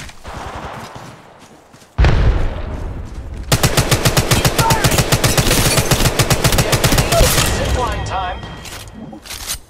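Rapid automatic gunfire in the Apex Legends Mobile battle royale, with a heavy thump near the start and then a long, loud, dense burst of close machine-gun shots filling most of the clip, with voices underneath.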